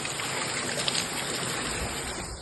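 A mountain stream rushes steadily nearby, a loud, continuous broadband gurgle and hiss of flowing water with no breaks.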